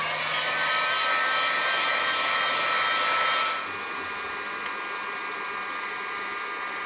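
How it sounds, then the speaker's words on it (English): Heat gun heating a piston and connecting rod assembly from a 2008 Acura MDX engine, blowing a loud, steady airy roar that drops abruptly to a quieter whir partway through. "So I've got a heat gun here. Turn this on."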